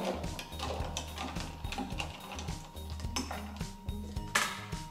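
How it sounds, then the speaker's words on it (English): A Kinnie cocktail is stirred in a glass, with a spoon clinking and rattling against ice in quick, irregular bursts, fairly quiet and close. "I stir it."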